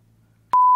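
Ringtone beep played for an audience, a sudden loud steady electronic tone that cuts in after a short quiet hum and holds to the end.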